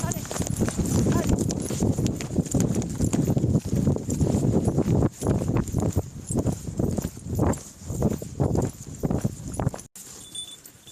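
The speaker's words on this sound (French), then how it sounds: "Ça part au galop, ça part au galop." Horses on an outdoor trail ride in the Somme countryside break into a gallop, their hooves thudding in a fast, steady rhythm close by, with wind noise and riders talking over the hoofbeats.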